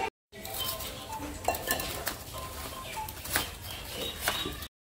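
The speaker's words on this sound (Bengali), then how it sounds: "এই যে টক দই দিয়ে দিয়ে মুরগিটা মাখানো হচ্ছে।" Raw chicken being mixed by hand with frozen sour yogurt in a pot gives soft squelching and clinking sounds, with occasional metallic taps, steady and fairly quiet, heard alone without talk.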